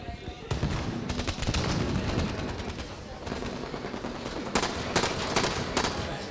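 Battle rifle fire crackles in the video game Halo 5, sharp bursts of shots breaking through a loud, busy mix of game noise and excited talk.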